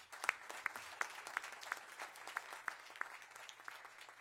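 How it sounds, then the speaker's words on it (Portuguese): Scattered audience applause at a health ministry public event, individual hand claps standing out sharply in an irregular rhythm, fairly light and thin, with a faint hum beneath. "Eu peço uma salva de palmas aqui ao SUS."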